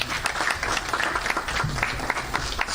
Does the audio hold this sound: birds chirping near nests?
no